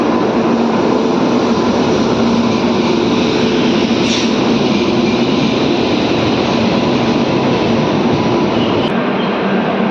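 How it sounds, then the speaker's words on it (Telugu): The Secunderabad–Danapur Superfast Express pulls into platform 1 at a station, a loud, unbroken rumble of wheels and carriages filling the whole stretch with no pause. "ప్లాట్ఫామ్ నెంబర్ 1లోకి వస్తుంది Secunderabad Danapur super fast express"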